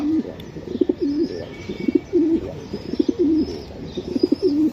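Racing pigeons from a racing club loft coo repeatedly nearby in a loud, throaty, rhythmic series of calls, with faint higher chirps in the background.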